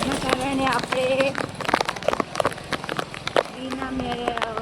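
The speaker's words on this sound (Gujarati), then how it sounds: "તમે જોઈ શકો છો દહેગામમાં તો વરસાદ થઈ ગયો છે" Rain falls in Dehgam, Gujarat, as a crackly, irregular patter of drops on surfaces, with people talking over it for much of the clip.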